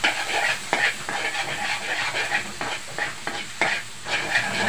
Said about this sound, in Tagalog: Pag mainit na, isulod natin itong bawang.